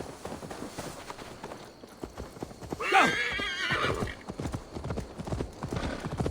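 Rapid hoofbeats of a galloping horse in the video game Assassin's Creed Valhalla, with a loud neigh rising in the middle, hooves continuing steadily afterward.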